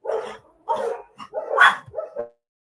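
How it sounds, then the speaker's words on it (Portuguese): A small pet dog barking indoors, five or six sharp yips in quick succession, close and loud, with no talking. "se minha cachorrinha, se ela ficar dentro, ela atrapalha"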